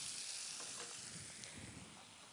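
Continuous bright sizzle from a hot pan with a drop of oil, steady and close for a couple of seconds, with a few faint clicks and no talk.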